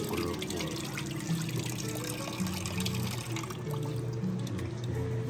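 Water runs steadily from a tap in a kitchen, a continuous splashing flow that stays fairly quiet and close throughout.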